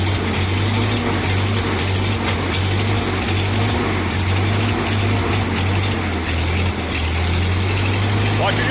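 A small vehicle engine running steadily after being put in gear, a loud constant buzzing hum close by with no pauses, while people talk over it.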